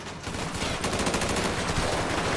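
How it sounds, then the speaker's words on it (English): AK rifles fire inside the video game GTA 5, a dense, steady stream of rapid automatic shots, loud and close, with no talk. "Yo, we got them new AKs, too. Let's put that to use."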